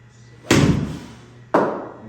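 Two sharp impacts of a golf 7 iron striking the ball about a second apart, each a loud crisp crack with a short ringing decay, close by on a driving range.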